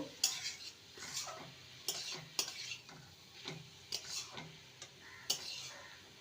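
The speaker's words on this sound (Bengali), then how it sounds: "বাকি মেথি শাকগুলো দিয়ে দেবো ভালো করে নেড়ে নেব" Fenugreek leaves and potatoes being stirred in a pan for a methi potato dish, with repeated scraping clinks of a spoon against metal in an uneven rhythm over a faint sizzle.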